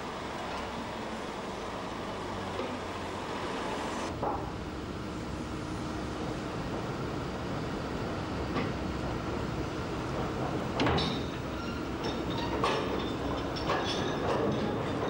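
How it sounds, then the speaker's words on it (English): Peat railway wagons in Ireland pushed one at a time by an under-track mechanical propulsion system into a tippler, a steady rumbling rolling noise with occasional metallic clanks and knocks, fairly close, with no talk. "Wagons are moved one at a time into the tippler."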